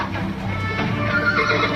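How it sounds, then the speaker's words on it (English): A horse gives a loud, close whinny that rises and shakes through its whole length, heard on its own with no talking. "I love that horse"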